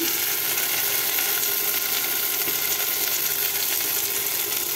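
Tomatoes fry in a hot pan with salt added, a steady crackling sizzle running throughout, with faint scraping as they are stirred.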